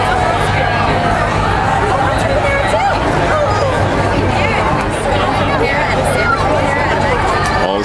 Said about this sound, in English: It's a huge crowd